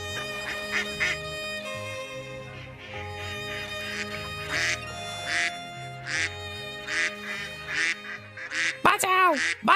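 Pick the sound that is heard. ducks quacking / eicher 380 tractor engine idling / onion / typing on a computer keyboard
ducks quacking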